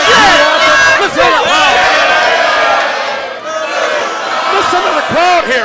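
Loud ringside crowd at a women's title wrestling match, a dense roar of shouting and cheering that swells and dips, with a commentator's voice talking over it throughout.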